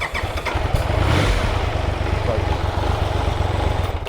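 A motorcycle engine, just fitted with a new crank position sensor, runs steadily at idle throughout, close and loud with an even, throbbing rumble.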